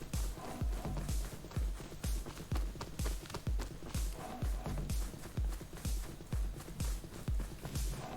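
Footsteps of a player character in the video game Rust, a steady series of heavy, thudding steps about twice a second, loud and close, walking on without pause under a faint hiss of background noise.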